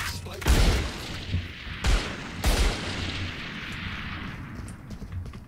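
Gunfire in the video game Valorant: a few loud, sharp shots or bursts with long ringing tails, separated by short gaps.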